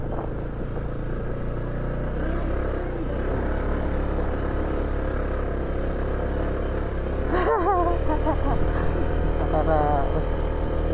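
A vehicle engine runs steadily throughout on a trip from Abra de Ilog to Puerto Galera, a continuous low drone with brief higher chirps near the end.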